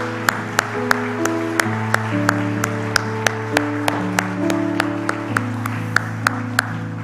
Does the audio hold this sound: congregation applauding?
yes